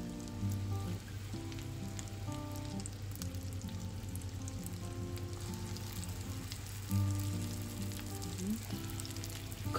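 Food frying in butter in a pan, a soft, even crackling sizzle held at a low level, with a couple of slightly louder swells and a steady background hum beneath.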